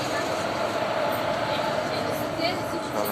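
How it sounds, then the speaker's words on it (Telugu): Two trains arriving at Erode Junction railway station, a loud, continuous rumble of rolling wagons and engine noise filling the platform, with a voice speaking over it. "రైళ్ళు వస్తున్నాయి రెండు"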